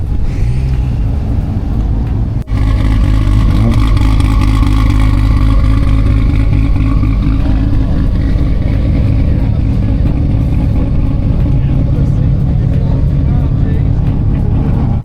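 Cars leaving a JDM car meet in the evening, loud engines droning and revving close by in a continuous wash of exhaust noise, with voices talking throughout.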